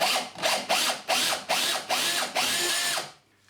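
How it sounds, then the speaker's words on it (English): A power drill bores a 12mm hole into a plasterboard wall for a shelf fixing, sounding in a rapid series of short, close whirring pulses before stopping. "I'm now going to drill the 12mm hole"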